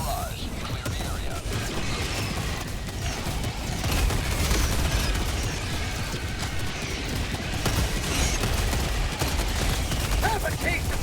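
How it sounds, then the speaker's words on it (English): Orbital barrage explosions and heavy gunfire fill a dense, loud, continuous battle in the Helldivers 2 video game, with rumbling blasts and mechanical clatter throughout. "Firing orbital barrage"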